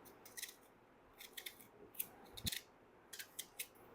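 A knife slices onions thinly for chicken biryani, giving soft, crisp clusters of cuts in short bursts, close and quiet in a home kitchen.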